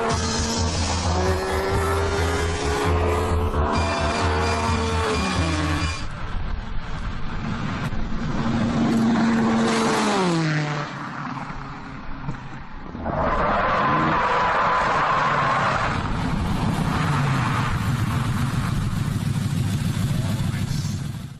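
A TVR Tuscan S sports car tears past at over 170 mph on a test track, its engine roaring and swooping in pitch through several loud passes, with motor noise filling the whole stretch.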